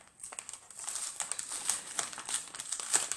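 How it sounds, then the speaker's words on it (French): Crinkling and rustling of paper being unwrapped from a parcel close by, irregular crackles rising and falling over a few seconds, no talking. "je vais essayer de enlever le papier sans trop le casser."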